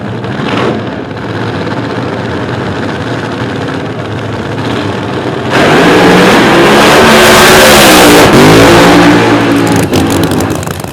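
A Nostalgia Nitro Funny Car drag racing engine idles roughly, then bursts into a loud, sustained roaring rev that swells and falls, close and overpowering.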